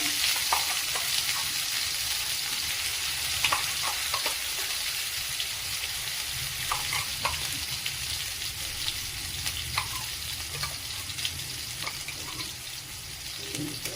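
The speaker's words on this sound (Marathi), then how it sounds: "हे लसूण कांदा आणि टोमॅटो वाटण केलंय तर ते परतून घेऊया" A paste of ground garlic, onion and tomato sautés in a pan for egg curry, giving a steady close sizzle broken by scraping stirs of a spoon, with no voices.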